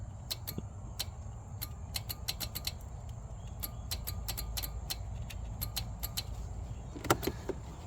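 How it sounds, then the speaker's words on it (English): Irregular sharp clicks and crackles from a faulty connection in the fuse holder of a Husqvarna 46 riding mower, scattered through the clip with a brief cluster near the end, over a steady low hum. "It causes clicking and everything else."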